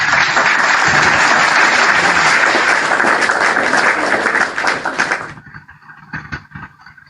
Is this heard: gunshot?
no